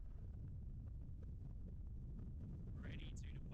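A strong gusty wind of about 30 km/h sweeps across Christchurch Airport, rumbling low and steadily against the microphone, with muffled voices and a brief higher tone near the end.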